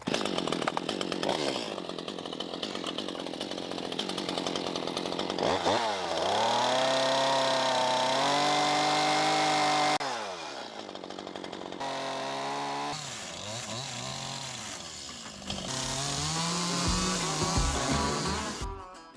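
A chainsaw cuts wooden rafter tails on a pole barn shed roof, revving loudly and bogging down through several cuts in succession, with pauses between bursts, close by.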